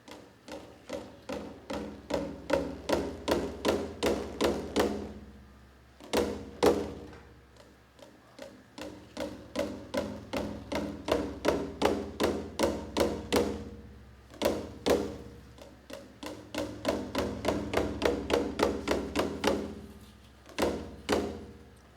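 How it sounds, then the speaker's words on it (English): A taiko drum is struck in fast, repeated beats that swell in intensity, broken by heavier booming hits, like surges of surf rising and crashing, performed live by a taiko ensemble. "this is the sound of waves building up and crashing."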